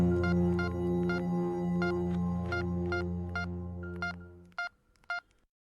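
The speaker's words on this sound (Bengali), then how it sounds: "এই কথা মাথায় আসতেই আমি অবনীবাবুকে ফোন করি" A touch-tone telephone is dialed in a tense scene, giving about nine evenly spaced beeps over a steady low hum, then two more isolated tones after the hum cuts out.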